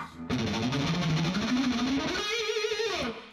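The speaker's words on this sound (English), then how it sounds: "the most interesting guitar thing in the song is the fast picking part" A distorted electric guitar plays a fast-picked heavy metal blues riff: a dense, unbroken run of rapid notes that climbs in pitch, then bends and slides near the end, loud and close with effects, no talking.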